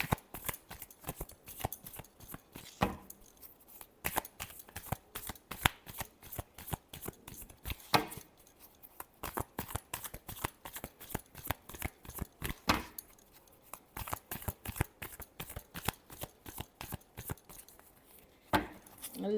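Tarot cards being shuffled over and over in quick, crisp bursts of riffling and flicking, close up with short pauses between rounds and no voices.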